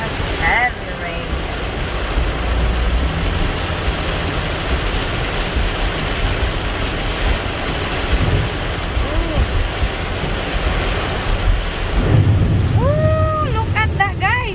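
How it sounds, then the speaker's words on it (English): Heavy rain drums on a car during a drive in bad weather in Ohio, a loud, steady broadband wash running the whole time, with a person talking briefly near the end. "That's heavy rain."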